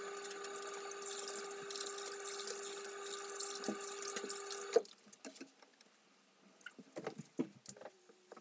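Tap water runs into a sink while facial wash is rinsed off, a steady close splashing stream that stops abruptly midway, followed by scattered drips and small handling sounds.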